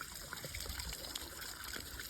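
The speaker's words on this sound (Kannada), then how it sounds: "ನೀರು ಬರತ್ತವ ನೋಡ್ರಿ." Water runs from a pipe in a farm field, a faint steady trickle and gush that continues throughout with no voices.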